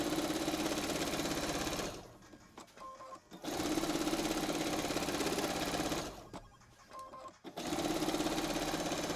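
A sewing machine stitches free motion quilting, its loud close whirring hum running continuously and stopping twice in brief pauses before starting up again.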